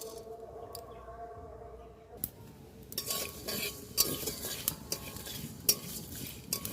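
Five-spice, dry chillies and garam masala frying on low heat for mango pickle, quiet at first, then a spatula scraping and clinking against the pan in repeated strokes over a light sizzle, close.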